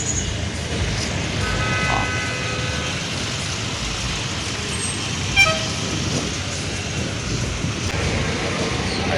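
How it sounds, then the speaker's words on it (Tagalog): Congested street traffic outside a shopping plaza drones steadily, with a few short car horn toots cutting through the constant engine rumble. "Buhol-buhol pa ng traffic."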